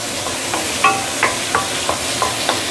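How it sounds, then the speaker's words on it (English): Spice paste for a Malaysian asam pedas sautés in oil with a steady sizzle. A spatula scrapes the pan at intervals of about a third of a second, each scrape a short stirring stroke. "I'm going to slowly saute this for a couple of minutes."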